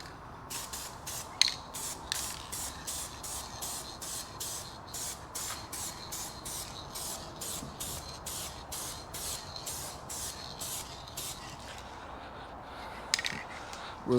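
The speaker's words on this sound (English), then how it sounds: "we got the ultra clear coat, and we're gonna do like a bit of a dusting coat" Ultra clear coat sprayed as a light dusting coat onto restored car headlights: a long series of short, regular aerosol hisses in quick bursts, close and steady, with no talk.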